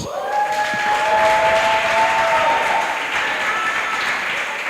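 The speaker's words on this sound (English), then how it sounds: "Put your hands together for Raima Muhammad" Audience applause fills a debate championship finale hall, a steady wash of many hands clapping with some crowd noise, sustained and fairly loud throughout, with a few tonal sounds over it early on.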